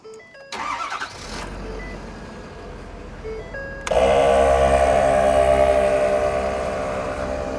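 A Ford F250 truck engine cranks and fires up, with a couple of short starter bursts and chimes before the engine catches and settles into a loud, steady idle.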